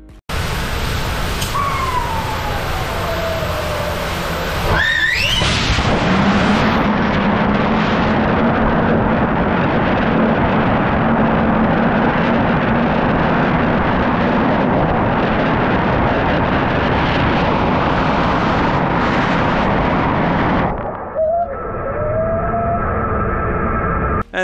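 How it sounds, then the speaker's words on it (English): A rocket's second-stage engine fires in a static test with a sustained, thunderous roar lasting many seconds at full force, then cuts off abruptly into quiet. "They tested the second stage engine."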